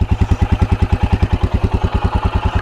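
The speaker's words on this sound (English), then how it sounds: "this is how it sounds at the idle" A single-cylinder Royal Enfield Himalayan BS6 motorcycle exhaust idles at about 1100 rpm with a steady, rapid, loud thumping pulse, close by.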